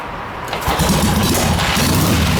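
A Harley-Davidson Ironhead Sportster XLCH with magneto ignition and no choke catches on a kick and fires up, settling into a loud, close, lumpy, throbbing idle with no talking.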